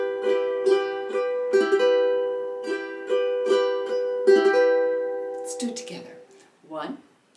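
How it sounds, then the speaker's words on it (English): An acoustic guitar is strummed slowly with thumb downstrokes so each string rings out like an arpeggio, several unhurried strums in a row, followed by a brief trailing breath or sound at the end. "I like to use my thumb instead of my index finger to do that first down stroke."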